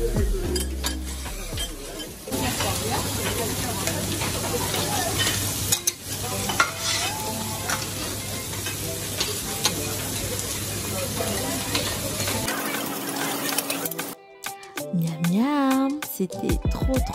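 Meat, fish and shrimp sizzle loudly on a restaurant grill, a dense continuous hiss with scraping and clattering of cooking tools, ending in a busier mix of kitchen noise and voices.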